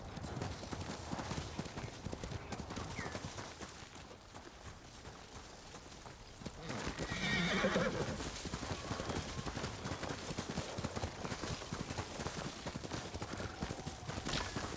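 Horse hooves clip-clop steadily in the video game Ghost of Tsushima, a brisk rhythmic gait that carries on without pause, with a brief swell of other game sound midway and faint background noise.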